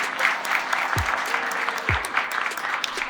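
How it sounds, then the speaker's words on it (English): People at a lighting company's community business panel applaud the hosts and panelists, brisk continuous clapping with a few low thumps mixed in. "Let's give them all a round of applause."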